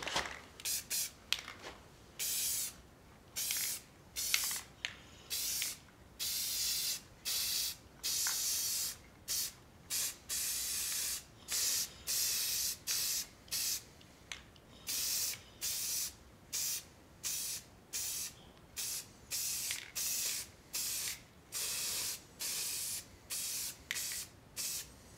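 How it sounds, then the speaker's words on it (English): Spray paint hisses over a cut-out mask in many short, loud bursts, quick sprays separated by brief gaps and repeating steadily, with no talking. "I'm gonna hit this with some paint, and then I'll be able to peel this mask off"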